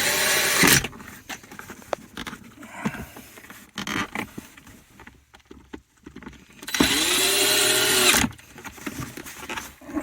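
Power drill driving screws back down on a 2014-2019 Chevy GMC wireless phone charging install, with two short loud whirring bursts at the start and near the end, separated by quieter handling clicks and taps close by.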